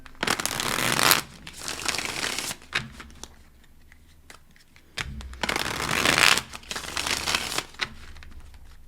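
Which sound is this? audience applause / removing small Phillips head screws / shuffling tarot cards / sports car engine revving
shuffling tarot cards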